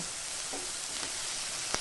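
Chopped onions with a pinch of salt frying in a pan for a Bengali pabda fish kaliya, a steady soft sizzle throughout with faint stirring scrapes and a small tap near the end, no talk.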